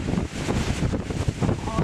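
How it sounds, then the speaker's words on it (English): Strong wind buffets the microphone on an open moorland walk, a loud, gusty rumble that surges and dips throughout. "Oh, that wind."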